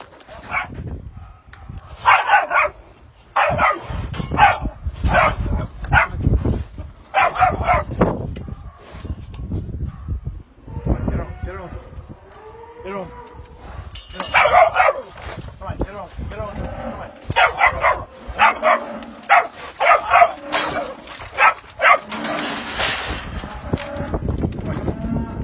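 A 15-month-old sheepdog barks repeatedly in short bursts outdoors, with a handler talking between the barks and lowing cattle nearby.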